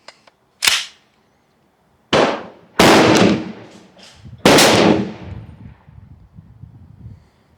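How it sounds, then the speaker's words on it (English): A BinTac PA 30 pump-action air rifle fires with sharp, loud cracks, several distinct reports spaced over a few seconds, each trailing into a brief ringing decay outdoors. "last shot in the magazine"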